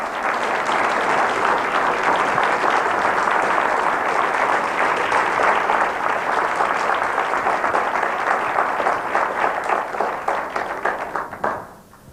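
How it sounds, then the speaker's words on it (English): Audience applause at a 1998 gathering: dense, sustained clapping from many hands, holding steady and loud for about ten seconds before tapering off quickly at the end. "that clapping should go on for 5 hours"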